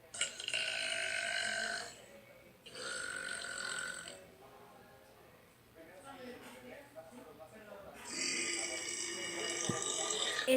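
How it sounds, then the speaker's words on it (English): Burp sound effects played from a burping sounds app: several long, loud, close burps in a row, with short pauses between them. "It's not me doing the burps. It's just this cool little app called Burping Sounds."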